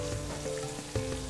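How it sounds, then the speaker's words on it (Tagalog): Salted dried fish (daing) fries in hot oil until crispy, giving a steady close sizzle with small pops and crackles and no talking. "Ito, prito natin hanggang maging medyo tostado."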